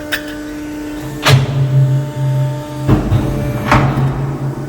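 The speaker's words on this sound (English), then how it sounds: "This is a 2006 3/8 over 12-foot hydraulic shear. I'll go ahead and cycle it a few times for you." A 2006 Accurshear 637512 hydraulic power shear, 3/8 inch by 12 feet, cycles under power. A steady hydraulic hum runs throughout, broken by two or three loud metallic clanks as the blade strokes and resets.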